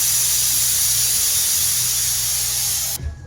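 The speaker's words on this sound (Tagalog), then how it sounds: "Lakas ang singaw, oh." A loud, continuous hiss of steam escaping under pressure from a pressure cooker, close and steady, cutting off abruptly near the end.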